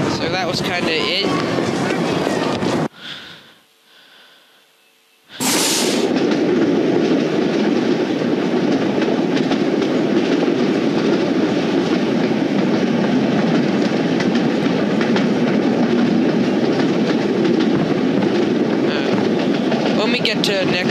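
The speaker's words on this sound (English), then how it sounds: "Now to get on the train." A train from the video game City of Steam rumbles and roars steadily, broken early by a brief near-silent gap, then continuing as a loud, dense rolling rush with a faint clatter and hum.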